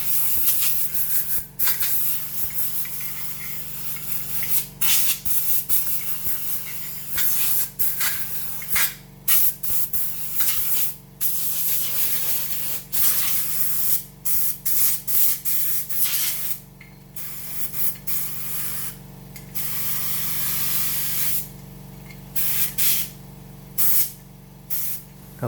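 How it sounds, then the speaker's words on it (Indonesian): Compressed air from a compressor blasting on parts of a Honda Vario 125 scooter's clutch, loud hissing bursts in quick repeated pulses with short gaps, close to the microphone. "cukup disemprot-semprot ya pakai kompresor ya"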